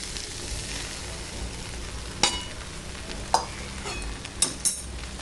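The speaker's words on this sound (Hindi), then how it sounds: "रवा को सब्जी के साथ अच्छे से मिला लीजिए।" Semolina and cooked vegetables being stirred in a frying pan for veggie upma give a steady low sizzle, with several sharp scraping clinks of the spoon against the pan.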